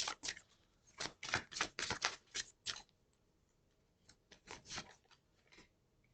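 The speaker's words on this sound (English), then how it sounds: "I'll pull out one more card" Cards of an oracle deck riffle and shuffle in quick bursts of papery clicks and flicks, close and crisp, pausing briefly before a second, softer run of card handling.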